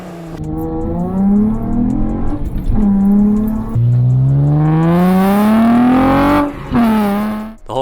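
Modified Acura TL with a 2.5-inch catback exhaust, resonator and single-exit Apex'i WS2 muffler, revving loudly up close in repeated climbing pulls that fall back between them.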